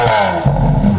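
A Lamborghini Aventador SVJ's V12 engine revs with a loud, close, continuous rumbling roar that swells midway through, heard without any talk.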